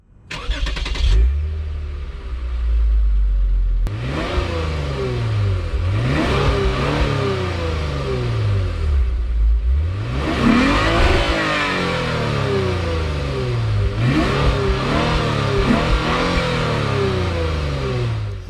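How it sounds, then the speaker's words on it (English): A 2022 Lexus IS350 F Sport V6 engine revs repeatedly through the exhaust, deep rising and falling surges with a rumbling idle between blips, loud and close. "They look amazing and they sound even better."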